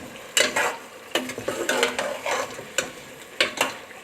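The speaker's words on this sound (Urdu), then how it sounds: "اب اس کو میں اچھی طرح سب چیزوں کو میں مکس کروں گی۔" Meat, onions and tomatoes with spices are stirred in a cooking pot for a tinde gosht curry, a spoon scraping and clinking against the metal in irregular bursts over a soft sizzle, close and fairly loud, with no talking.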